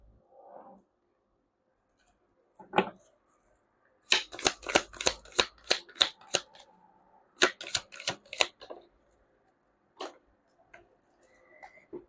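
Tarot cards are shuffled in quick bursts of crisp riffling and snapping, with several rapid clusters, short pauses and a few isolated flicks, close and clear in a quiet room without talk.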